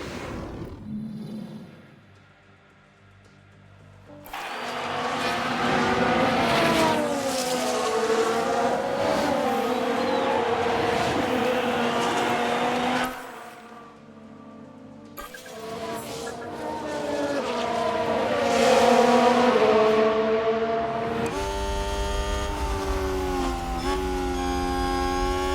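Williams Formula 1 car in a 1994-season racing game replay, engine screaming at high revs with pitch sweeps as it spins out; a roaring whine that cuts off abruptly twice, then returns as a steady tone.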